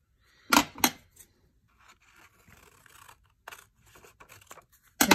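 Scissors cut paper pieces for a triangular gift box with two crisp snips close up, followed by quieter rustling, sliding and a few more light snips. No one speaks.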